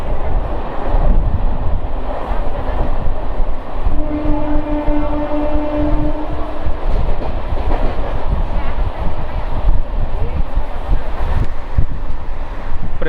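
A MEMU express festival special running near 100 km/h through Kantakapalli railway station, wheels and carriage rumble steady and loud throughout, with a sustained horn-like tone sounding for a couple of seconds midway.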